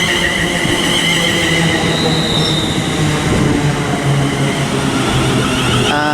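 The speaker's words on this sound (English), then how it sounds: "arriving now is the 1111 London North Western Railway service to Milton Keynes Central from London Euston" A London Northwestern Railway train arrives at Watford Junction on the West Coast Main Line, its wheels rumbling and squealing loudly and steadily close by, with no talk over it.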